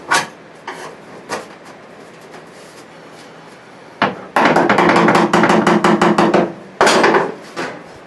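Screwdriver wedged against an old car floor pan during a Duster restoration, sharp metallic strikes and scraping clangs, scattered at first then a loud rapid burst of repeated banging, close and without speech.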